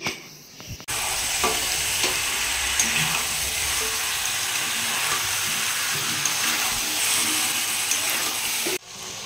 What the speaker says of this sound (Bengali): তো আগে সবজিগুলো একটু ফ্রাই করছি